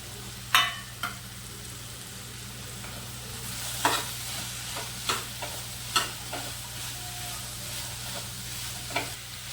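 Chopped kartoli (spiny gourd) frying with coriander powder and turmeric in a pan, a low steady sizzle under a handful of scattered stirring scrapes and knocks from a spoon, close and quiet.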